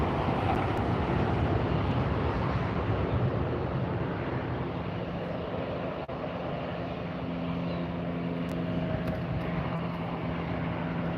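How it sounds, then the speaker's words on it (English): A Delta Airlines airplane near the LAX runway gives a steady, loud broadband engine roar that holds throughout with little change, no talking. "We have Delta Airlines coming up."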